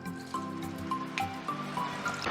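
Water is poured into a pot of potato and meat curry, a soft, faint trickling and dripping with small splashes that runs steadily, with no talking.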